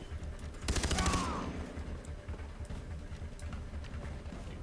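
A burst of rapid automatic gunfire from Far Cry 3 erupts loud and dense for about half a second, then gives way to a low, busy game background with scattered faint shots.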